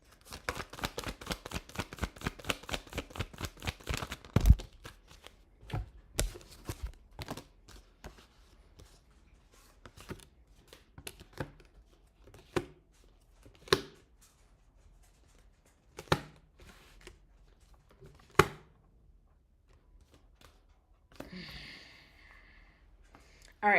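Rapid rattling tarot card shuffle at the start, followed by scattered soft taps, flicks and card handling noises, fairly close and quiet.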